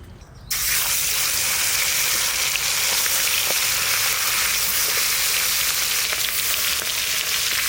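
Rita fish frying in hot oil gives a steady, loud sizzle that starts abruptly after a brief quiet moment and continues evenly, close up, with no voices.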